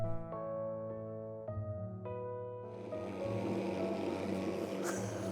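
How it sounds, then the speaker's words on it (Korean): A mosquito-fogging disinfection truck passes near the Dodam Sambong rock peaks in Danyang. After a few bell-like musical notes, its engine and sprayer come in as a loud, steady broadband roar that fills the rest of the clip. "도담 삼봉 보는데 소독차가 지나가네 환장하겠네"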